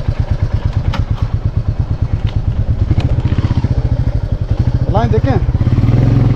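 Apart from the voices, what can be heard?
Royal Enfield motorcycle engine running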